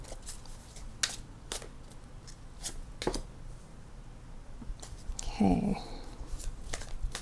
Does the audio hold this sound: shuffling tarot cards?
yes